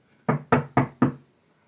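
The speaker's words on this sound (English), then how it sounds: "I really love knocking doors and things like that" Four quick, evenly spaced knocks on a door, close and loud, with no voices.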